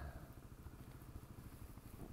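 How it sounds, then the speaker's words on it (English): A trusty 15-year-old motorcycle that starts well on cold days, ridden outdoors on a winter day, its engine giving a steady, low, rumbling throb throughout at moderate level. "And I'm out on my trusty motorcycle."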